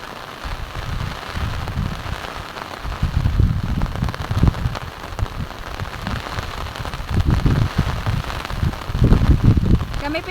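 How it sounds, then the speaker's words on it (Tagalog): Heavy rain during Typhoon Aghon pours steadily and loudly, with gusts of heavier downpour rising and falling throughout. "talaga pong nalakas ng ulan"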